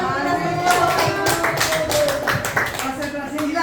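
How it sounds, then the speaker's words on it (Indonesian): Adults at a teachers' training session clap together in a lively, continuous patter, with voices talking and calling over the clapping. "Kasih tepuk tangan kita semua Bapak Ibu."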